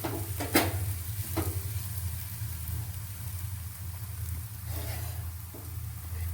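Methi paratha cooks in ghee on a hot pan, a steady low sizzle running throughout with a few sharp spatula taps and scrapes near the start and end.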